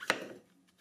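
A knife cuts once through a button mushroom on a cutting board, giving a single crisp, close chop followed by a faint softer tap and quiet.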